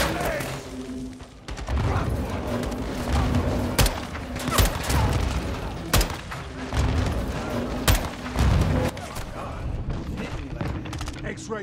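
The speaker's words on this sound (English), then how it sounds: "They're launching grenades!" Dense gunfire and heavy grenade explosions in the video game Call of Duty Modern Warfare 2, repeated thumping blasts and crackling shots over a loud battle din, with voices shouting among the chaos.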